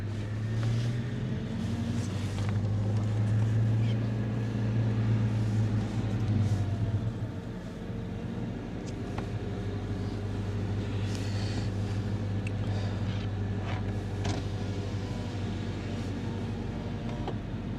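A car rumbles low and steady from inside the cabin during a daughter's driving lesson, starting off in first gear on a risky road, with faint rattles and no talking.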